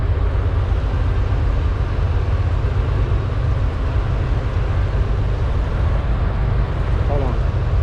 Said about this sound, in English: As you can hear, there's a train.